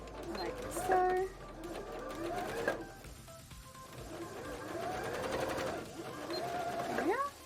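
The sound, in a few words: sewing machine stitching across the bottom of a bra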